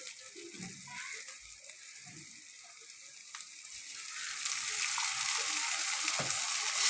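Water poured onto sizzling fried spice paste in a pan brings a rising hiss and bubbling that grows louder and denser toward the end, with a few soft clinks and stirring knocks early on.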